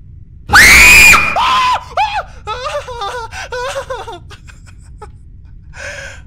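A person lets out a loud, acted scream that rises sharply and breaks off. It is followed by gasping, giggling vocal bursts and a final short cry, all close to the microphone.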